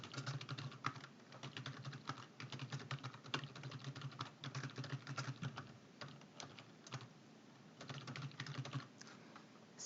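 Rapid typing on a computer keyboard while entering data into an Excel spreadsheet, a steady stream of close, crisp key clicks with brief pauses, no talking.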